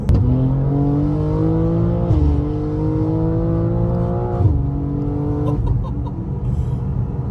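A Stage 2 tuned 710 bhp BMW G87 M2 accelerates hard, its engine note climbing loud and close through three gear changes, each marked by a brief drop before the revs rise again, with no voices.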